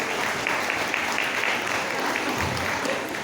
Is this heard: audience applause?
yes